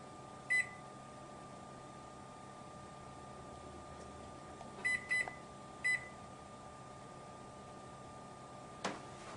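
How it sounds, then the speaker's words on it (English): Kitchen timer beeping in a home kitchen while rolls are prepared, a few short electronic beeps: one near the start, a pair and a single a few seconds later, over a steady low hum. "Set my timer for 25 minutes."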